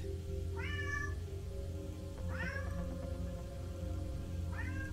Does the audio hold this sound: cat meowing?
yes